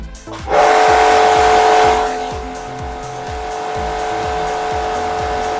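Orion Superjet 100-SX jet cleaner pressure washer starts with a sharp burst, then settles into a loud, steady motor whine with a constant tonal hum and rhythmic pump pulsing throughout.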